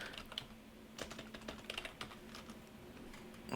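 Quiet typing on a computer keyboard while using a lifting app, irregular soft key clicks in short clusters over a faint steady hum, with no speech.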